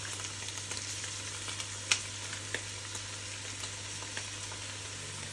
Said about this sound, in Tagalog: Pagkalagay ng sauce, halu-haluin lang siya ng konti.